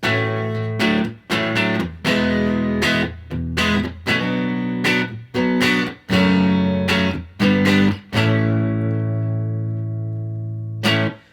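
An electric guitar with mild overdrive plays a modern country rhythmic pattern of chords, each strummed and cut off, ending on one sustained ringing chord.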